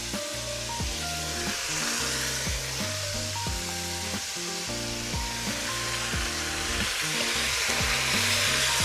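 Birria quesadillas frying in a hot pan give off a steady, dense sizzle with crackling texture throughout, close and continuous, with no talking.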